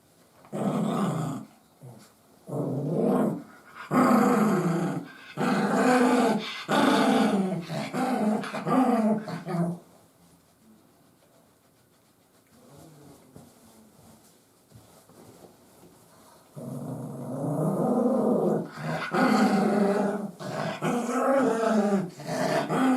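A dog growls loudly and close by in repeated rumbling bursts while being rubbed dry with a towel, with a quieter pause midway before the growling resumes.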